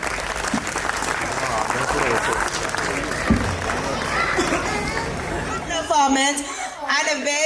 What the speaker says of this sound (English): very low clap by the parents